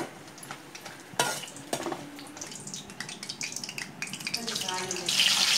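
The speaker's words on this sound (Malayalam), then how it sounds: "ഇതൊന്ന് നല്ലതുപോലെ ഫ്രൈ ചെയ്തിട്ടെടുക്കാം" Chicken pieces frying in sunflower oil in a kadai give a dense, hissing sizzle throughout, punctuated by sharp stirring clatters and growing louder toward the end.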